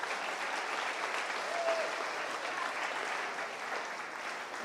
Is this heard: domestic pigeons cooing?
no